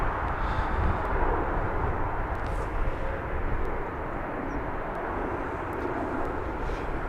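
Steady, broad roar of a Finnair jet airliner at London Heathrow Airport, a continuous rumbling engine wash at moderate distance with no talk.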